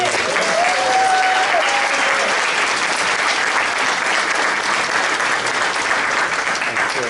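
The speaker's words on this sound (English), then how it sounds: "Once again, a huge round of applause for 9 new inductees to the Vista Historical Society" A large audience at a Vista Historical Society annual meeting claps loudly and continuously for new inductees, a dense, even wash of applause lasting throughout, with a faint whistle-like tone briefly rising early on.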